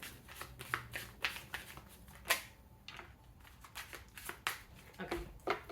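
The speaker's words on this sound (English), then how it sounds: "I'll put that one back in and see if it comes out with a bit one more shuffle." A deck of cards being shuffled by hand, a series of quick riffling bursts with soft flicks between them, close and fairly quiet, no talking.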